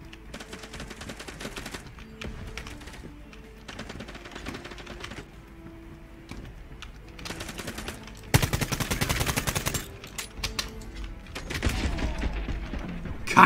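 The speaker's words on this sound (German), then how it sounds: "das ist der letzte Schuss" Gunfire from the time-paradox shooter Quantum League, with bursts of rapid shots scattered across the stretch and a denser, louder volley toward the end, heard alone without talk.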